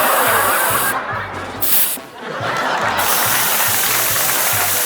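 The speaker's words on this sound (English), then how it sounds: "I want the silly string." Silly string sprays out of a can in loud hissing bursts, short gaps breaking the spray twice, close and forceful.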